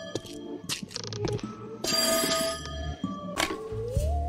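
A telephone rings in the video game There Is No Game, with repeated ring tones over a busy mix of game sounds and music.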